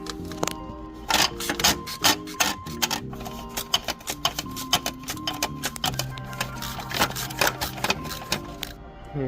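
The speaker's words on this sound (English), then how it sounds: "And the stubby ratchet. Had to get the tiny extension on this one." A stubby ratchet with a tiny extension turns a bolt during a Stage 2 turbo install on a 2011 BMW 535i with the N55 engine. Quick, closely spaced clicks come in uneven bursts over steady tonal background sound.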